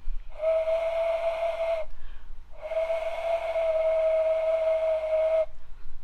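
A homemade putu bamboo cake steamer made from a used can lets out a steady, shrill steam whistle with a hissing edge. There are two sustained blasts, the second longer, separated by a short gap, loud and close.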